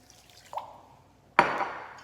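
Water poured into mashed purple sweet potato makes a short trickle, then a brief pause, then a louder splashing pour that fades away, close by and with no voices.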